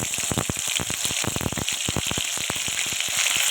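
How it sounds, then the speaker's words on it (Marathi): Ground masala paste drops into hot oil for a hotel-style vegetable bhaji, giving a loud, steady sizzle broken by rapid popping crackles throughout, with no talking. "हा जो मसाला आहे वाटलेला तो मी तेलामध्ये टाकतो"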